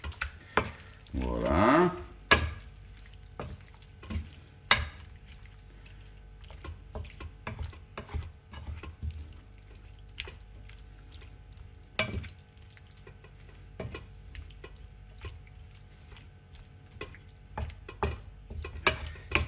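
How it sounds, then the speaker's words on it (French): A spoon stirs peperonata with crushed tomatoes in a pan, making scattered scraping and knocking strokes over a low simmer, with a brief louder burst near the start and one short spoken word. "On mélange nouvellement le tout."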